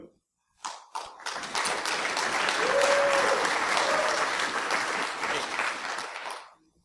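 An audience at a Linux privilege escalation conference talk breaks into clapping that swells quickly, holds as a full, steady applause for about five seconds, then fades out.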